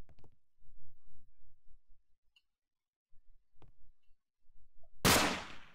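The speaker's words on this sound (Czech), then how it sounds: "Slyšeli jste ten výstřel?" A single sharp, loud bang like a gunshot goes off near the end in the Minecraft video game, after soft, sparse clicks and near silence.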